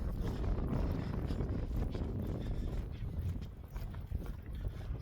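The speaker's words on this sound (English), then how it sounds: "So the wind's picking up a bit as well, which is cooling down" Wind gusts across a mountain ridge at Pen yr Ole Wen, a continuous rumbling buffet against the microphone, fairly faint and unbroken.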